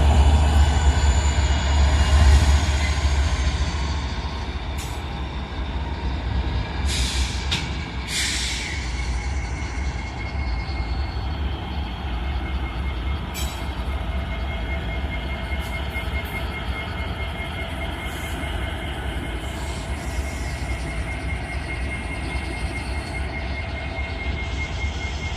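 Norfolk Southern Tier 4 locomotive 3630 rolls past with a loud, steady rumble that eases slightly after the opening seconds, its freight cars clattering on and on under an overcast sky.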